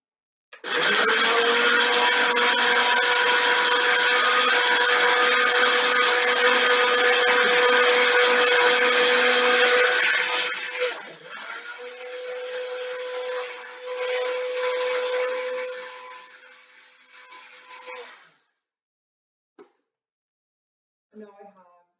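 A blender grinds the contents of a jar into a powder, roaring loudly and steadily for about ten seconds, then running quieter and uneven until it shuts off.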